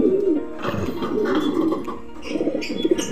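Pigeons coo softly and close by in a low, throaty rolling rhythm, with soft warbling calls repeating through the few seconds. A faint rustle sits in the background.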